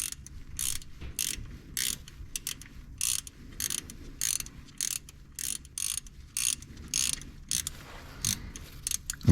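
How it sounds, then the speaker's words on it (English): A ratchet wrench backing a bolt out of the drive belt tensioner on a C7 Corvette gives close, crisp bursts of rapid clicking in a steady repeating rhythm with short pauses between strokes. "I'm just going to keep turning it until I back that bolt out."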